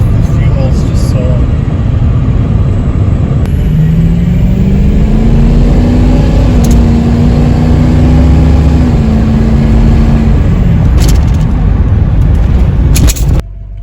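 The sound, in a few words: Ford Excursion 6.0 Powerstroke diesel engine running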